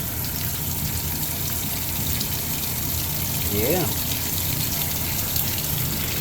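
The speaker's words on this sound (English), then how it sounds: "And it fills up with real water." A Speed Queen washing machine, built in November 2022, fills with water, giving a steady rushing gush that runs throughout at moderate level, with a brief spoken word in the middle.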